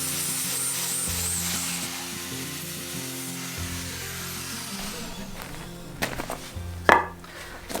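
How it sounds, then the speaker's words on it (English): Angle grinder fitted with an 80-grit coarse sanding pad smoothing rough wood edges on a farmhouse cladding build, a steady droning whir with gritty rubbing that shifts in pitch, ending in a few sharp scraping bursts. "He then uses an 80 coarse sanding pad with the angle grinder to take off the rough"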